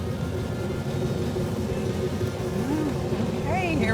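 A 1970 Plymouth Cuda tribute car with a 440 six-barrel engine and close-ratio transmission pulls away, a steady engine drone filling the clip at moderate distance while people talk over it.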